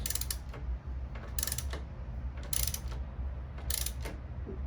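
A ratchet clicks in several short bursts as it tightens the oil drain plug with a new crush washer on a Yamaha Tenere 700, the close, crisp ratcheting separated by brief pauses over low background hum.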